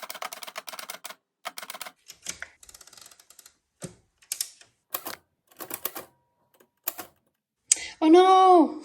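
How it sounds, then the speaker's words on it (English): Vintage typewriter keys strike in quick, irregular bursts with short pauses between words, each clack crisp and close, followed at the end by a sustained ringing tone. "So I'm going to use my vintage typewriter."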